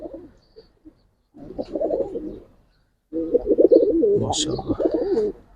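Giribaz pigeons coo in bursts of soft, throaty warbling, with a short quiet gap between the first few calls and a longer, louder stretch near the end.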